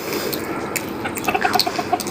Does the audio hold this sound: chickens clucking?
yes